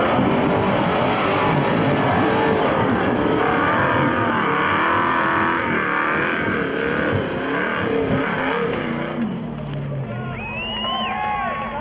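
Modified Toyota Land Cruiser fitted with a 383 Chev V8 working off-road, its engine roaring and revving continuously up close while a voice talks over it and other vehicle sounds join near the end.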